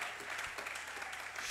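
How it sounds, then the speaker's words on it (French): A church congregation applauding for a preacher during a service, steady dense clapping that fills the room at even loudness with no pause throughout. "Acclamons frère Branham ce soir."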